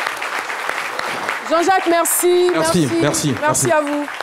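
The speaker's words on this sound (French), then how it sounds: "Je vous invite à prendre place sous les applaudissements du public." Audience applause greets a guest taking a seat on a televised stage, heard as a crowd clapping under a voice, which soon dominates while the clapping carries on behind him.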